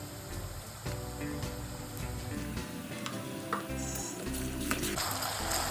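Onion sizzles in a pan with ginger, chilli and garlic paste for Kathiyawadi baingan bharta, while a spoon stirs and scrapes now and then. The frying stays close and steady, with no talking.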